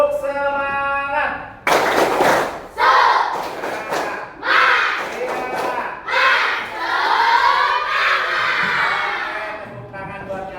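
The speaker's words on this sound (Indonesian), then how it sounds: "silakan tepuk semangat" A group of schoolchildren performs a rhythmic spirit clap in a classroom, with loud bursts of patterned clapping and chanted shouting in quick, uneven phrases. It opens with a sustained voice before the group joins in.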